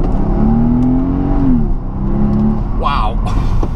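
A Mercedes SL65 AMG Black Series accelerating at full throttle, its engine note rising steadily and loud and close, dipping briefly at a gear change before climbing again.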